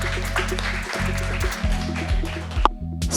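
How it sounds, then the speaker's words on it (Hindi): Audience applause breaks out at a talent-show winner announcement, a sustained wash of clapping running under loud, bass-heavy music for the whole stretch. "या तालियां बजा दो, come on."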